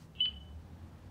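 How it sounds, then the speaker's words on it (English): One short, high electronic chirp from an old smoke detector sounds once against a quiet indoor background, brief and moderately loud. "fix the smoke detector. I replace. God, old one. Beeping, beeping."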